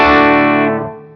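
A single heavily distorted guitar chord played through a Fractal EF86 treble amp model with the volume knob on 3, struck hard and ringing out with a bright, saturated sustain before fading, alone and close.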